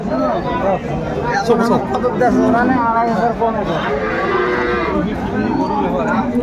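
Cows and calves moo repeatedly amid steady crowd chatter and hubbub at a busy rural cattle market selling milking cows with calves, the lowing loud and close over the voices.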